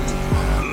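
A car's tyres skid and squeal under hard braking in The Crew Motorfest, a 1971 donk-style car, loud and close in one short burst over steady engine noise.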